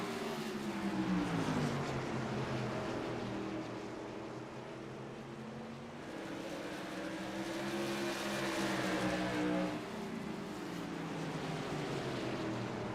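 Race car engines in a virtual racing game at Stafford Motor Speedway drone steadily, several engines overlapping with pitch sweeps as cars accelerate out of corners, fairly quiet and continuous without talk.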